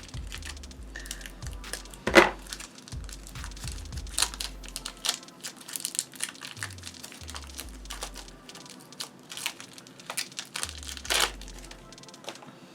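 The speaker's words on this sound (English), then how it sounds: "I'm just going to cut these packets open" Polymer clay packets being cut open with crinkling plastic wrapper noises and scattered sharp snips and taps, one louder crackle early on, close and quiet with no talk.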